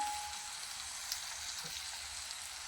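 Fried ridge gourd added to frying masala: a steady, hissing sizzle with fine crackle throughout, close and fairly quiet, without talk.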